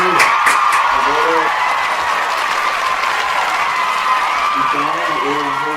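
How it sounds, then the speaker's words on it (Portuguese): Sustained audience applause fills the space after a Portuguese poetry recitation at a school modern-art week event, dense and steady throughout, with a few voices briefly audible at the start and end. "Aplausos aí para Manuel Bandeira."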